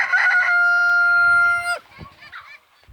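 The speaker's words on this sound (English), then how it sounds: "We have about 700 chickens" A rooster on a pastured poultry farm lets out one long, loud crow, followed by fainter clucking and scattered bird noise.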